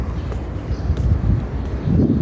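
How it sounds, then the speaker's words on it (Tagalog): Breeze gusting across an open rooftop, a steady low rumble of wind buffeting the microphone that swells louder toward the end. "Sobrang maano yung simoy ng hangin dito, guys."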